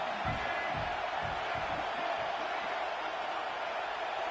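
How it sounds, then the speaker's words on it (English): A football game crowd roars as a steady, dense wash of noise, loud and continuous, while a commentator speaks over it. "the crowd really getting into it"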